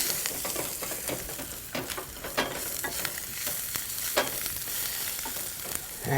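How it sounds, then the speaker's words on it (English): Half a tablespoon of freshly minced ginger and a teaspoon of turmeric fry in a pan, a steady close sizzle broken by repeated scraping stirs, with no voices. "We've got 1/2 of a tablespoon of freshly minced ginger, and a teaspoon of turmeric. Fry that up momentarily."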